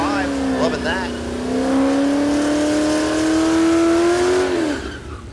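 A drag racing car making a run at Mid America Dragway: a loud, sustained engine roar that climbs steadily in pitch as the car accelerates away, then fades near the end, with an announcer talking over it.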